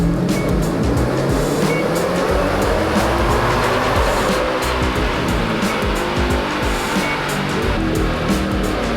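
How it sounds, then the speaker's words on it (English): A Ford Raptor R truck with a Whipple supercharger revs hard on a dyno, producing a loud, sustained high-RPM engine roar that holds steady throughout with no talking. "All right, so we got the truck to rev out."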